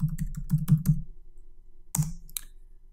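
Fingers tap a computer keyboard to enter a password: a quick run of about eight close keystrokes, a pause, then one firmer key press, likely Enter, with no voices.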